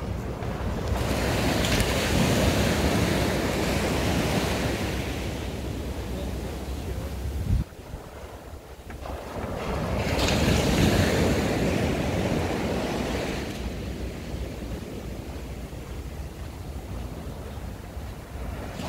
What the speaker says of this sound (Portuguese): para quem gosta de escutar o barulho do mar aí, ó.